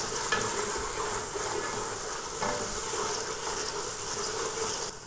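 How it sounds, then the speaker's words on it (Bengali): Ground spices and salt sautéed in hot oil give a dense, continuous sizzle close up, with soft scraping from stirring throughout. "একটু কষিয়ে নেব ভালো করে।"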